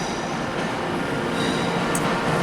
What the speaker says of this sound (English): one of the new West Midlands Railway trains. New class 730s.